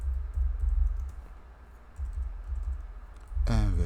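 Keys tapping on a computer keyboard in bursts of quick, close clicks, with a voice starting up at the end.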